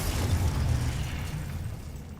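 Confringo explosion spell cast in the video game Hogwarts Legacy, a loud, dense rumbling blast that fills the whole moment and slowly fades without any talk.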